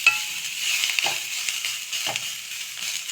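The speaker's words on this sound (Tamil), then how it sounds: "லைட்டாக வதக்கி ஒரு 2 நிமிஷம் வேணால் விட்டுடலாம்" Carrot and capsicum being lightly sautéed in a pan, with a steady sizzle throughout and a couple of brief stirring scrapes, at moderate level with no talk.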